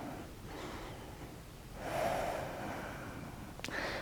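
Slow, steady breathing during long held exercise poses in a full-body physical workout, soft and close with gentle airy inhales and exhales and a faint sniff near the end, no talking.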